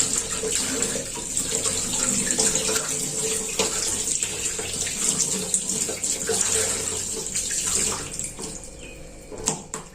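Steady gush of water from a tap pouring over fish being washed in a sink, continuous and fairly loud, with small splashes and handling noises throughout.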